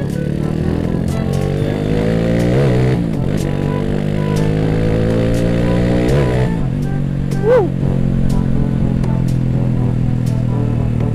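A Honda Astrea Grand motorcycle rides along with a steady mid-pitched engine drone and rising, falling revs, loud and close throughout with occasional clatter and no talk.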